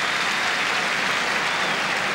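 A football stadium crowd at a Leicester City match applauds goalkeeper Kevin Poole's flying save, a dense, even roar of clapping heard alone and steady throughout.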